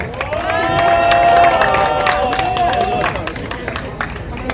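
Audience at a candlelight protest rally in Suwon breaks into loud, sustained applause and cheers with whistles, welcoming a speaker to the stage; crowd noise stays dense throughout and eases slightly near the end.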